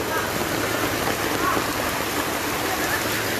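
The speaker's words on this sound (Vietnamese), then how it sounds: "Đây là trận mưa là kỷ lục của nông Trà My lần đầu tiên." Heavy record rainfall in Nam Trà My, Quảng Nam, pours down as a dense, loud, unbroken hiss of rain on surfaces and running water.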